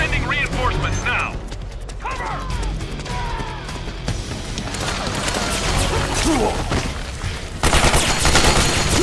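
Game gunfire in Metal Gear Solid 4 on PS3, a dense battlefield clatter of shots and impacts mixed with mechanical clanks, under radio-style voices and battle chatter, growing louder toward the end.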